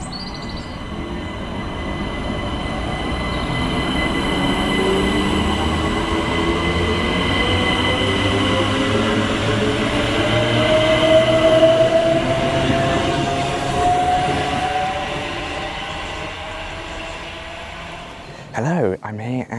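A train rumbles steadily into Cholsey station on the Reading to Didcot line, its wheels giving off a faint rising squeal as it slows. The loud, continuous rolling noise lasts throughout and ends with a few brief clunks.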